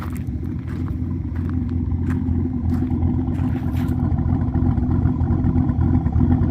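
A Camaro Z28 idles at a Sunday morning car show, its big cam giving a deep, loping rumble that pulses steadily up close, with faint outdoor clatter above.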